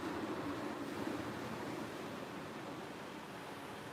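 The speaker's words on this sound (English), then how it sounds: "can you guys hear the waves in the background?" Ocean waves at high tide come through an open door as a soft, steady wash of surf, faint and continuous with no voices.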